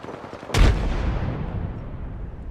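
A frag grenade goes off in Apex Legends: a single loud, close blast with a sharp onset, then a long rumbling decay that fades over about two seconds.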